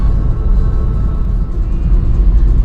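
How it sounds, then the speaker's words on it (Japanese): Strong storm wind roaring over a rain-soaked bicycle ride along the rough Sea of Japan coast in Tottori, a heavy, steady low rumble that fills the whole stretch without pause. "これが嵐やった"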